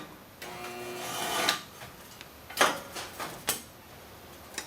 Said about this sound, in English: And that's the spot weld. Put another one in here.